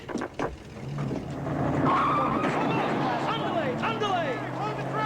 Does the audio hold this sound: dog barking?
no